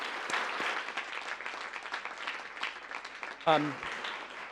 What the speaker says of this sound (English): Another round of applause for our incredible storytellers.